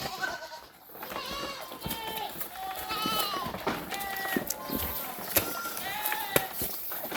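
Many goats bleating over and around each other on a dry pasture, loud and close, with a steady background of movement and overlapping calls throughout.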